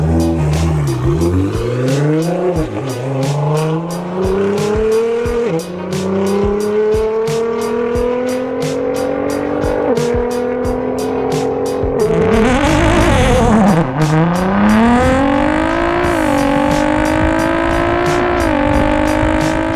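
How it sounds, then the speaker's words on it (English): A slammed wide-body Nissan GT-R R35 in Liberty Walk trim with an NXGEN Alpha 9 conversion screams around a track, revving hard through repeated upshifts with gear-change dips and crackles, loud and close, swelling as it passes. "We have Yaku's Liberty Walk R35, sporting an Alpha 9 conversion from NXGEN."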